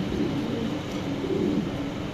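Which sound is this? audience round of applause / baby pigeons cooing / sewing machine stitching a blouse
baby pigeons cooing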